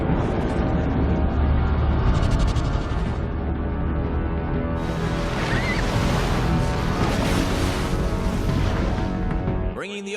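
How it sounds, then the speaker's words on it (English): Loud ocean waves crashing and surging continuously, a full roaring wash of surf with wind noise, set as ocean water pouring into a stadium, with no talk over it. "Bringing the ocean itself down into the stadium."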